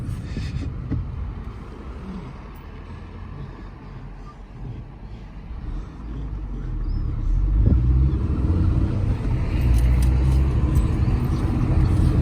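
A car drives along a country road with hedgerows, its low, steady rumble filling the interior and swelling louder in the second half, with no talk.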